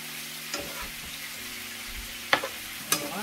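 Onions fry for Jamaican curry chicken with a steady close sizzle, broken by a few sharp spoon-and-pot clanks as they are stirred, no voices over it.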